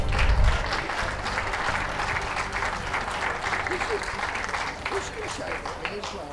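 Sustained applause from a dog show audience at the Bournemouth Championship Dog Show, a dense, loud wash of clapping that runs unbroken for several seconds, close and full.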